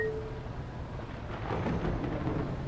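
Thunderstorm weather in the driving game Bus Simulator 21: a steady, moderately loud low rumble of thunder rolls on for a few seconds, swelling slightly midway, with no voices over it.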